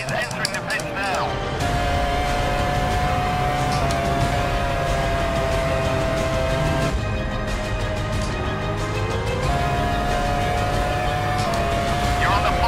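Formula One race cars in the F1 Challenge 99-02 video game, heard at the Japan round, where a steady high engine whine with gear-change steps runs loud and continuous throughout, with a race commentator voice speaking over it.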